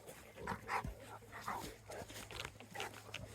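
A Weimaraner dog pants close by in a short burst of quick, breathy huffs, with a faint whimper, a low steady hum in the background and no speech.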